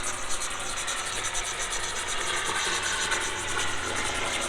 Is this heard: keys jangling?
no